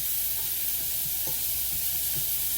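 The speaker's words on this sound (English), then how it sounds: "what I'm doing is sauteing some onions, like I always do in a pan" Onions sauteing in a pan, a steady loud sizzle with occasional scrapes and stirs of a utensil, close and continuous with no talking.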